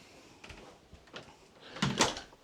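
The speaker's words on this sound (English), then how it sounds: "let's get a walk through the front door" Front door of a lakeside cabin opening, with a few soft handle and latch clicks followed by a louder, closer thud and creak of the door swinging near the end.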